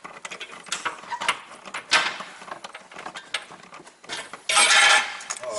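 Metallic clicks, rattles and scrapes of coilover bolts being handled and threaded by hand during a suspension install on a 2017 VW Golf Alltrack, close and irregular, with a louder rustling burst near the end.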